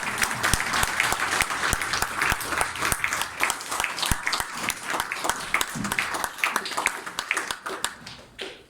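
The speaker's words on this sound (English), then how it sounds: "A big round of applause once again." An audience at a keynote speech claps steadily in a sustained round of applause, which fades out toward the end.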